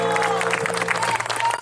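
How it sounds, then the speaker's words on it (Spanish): Audience applause at a charity benefit event, a brief burst of clapping that runs under sustained tones and a hum, moderately loud and close. "Aplausos para Coco Sonido."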